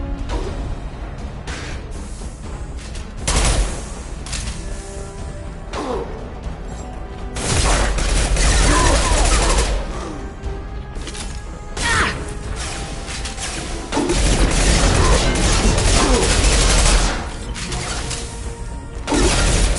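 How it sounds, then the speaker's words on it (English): Mechanical clanks, crashes and creaking impacts from an impact gun firing in the sci-fi shooter Mass Effect 2, loud repeated bursts over a busy combat mix with occasional faint voices. "Firing an impact gun!"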